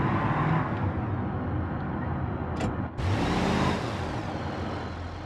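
A 1992 Chevy Caprice V8 in BeamNG.drive rumbles steadily with a deep, truck-like engine roar, loud and close, dipping briefly before surging back and slowly easing off.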